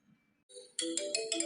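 A phone ringtone plays during a call in an animated episode: a soft tone first, then a louder, bright, repeating melodic ring that pulses steadily and close by, with no talk over it.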